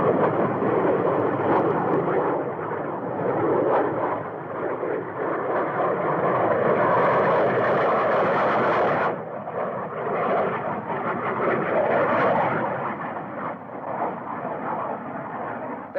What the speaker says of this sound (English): our jet fighter planes have already engaged the enemy